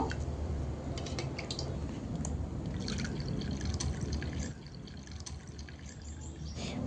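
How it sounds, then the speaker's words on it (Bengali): Boiled onion-peel water is poured from one pot into another in a home kitchen, a steady close liquid splashing and trickling that runs continuously, then drops to a lighter dribble partway through. "জলটা অন্য পাত্রে নামিয়ে নিব।"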